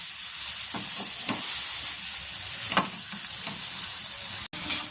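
Pieces of bhetki fish fry in shallow oil with spices in a pan, giving a continuous close sizzle with a few soft stirring scrapes and taps.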